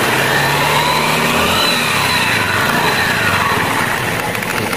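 Automatic scooter engine idling and running roughly with a knocking rattle, loud and close, a continuous dense mechanical drone throughout with no talking.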